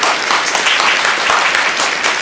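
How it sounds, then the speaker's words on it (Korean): A dense burst of applause from a crowd, many hands clapping at once in a steady, loud wash of sound. "뜨거운 박수로 맞이해 주시기 바랍니다"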